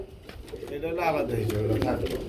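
Pigeons cooing in a pigeon sale setting, with soft rolling coos heard up close under overlapping talk from people nearby.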